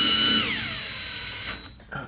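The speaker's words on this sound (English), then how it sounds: "I'm going to put the screws in," A power screwdriver drives ground screws into a board, its close motor whine winding down within the first second before fading to near quiet, with a short bump of noise near the end.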